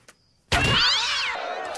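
A cat shot from a cat launcher in the cartoon Family Guy, heard as a sudden loud yowling meow after a brief near-silence, stretching out for over a second.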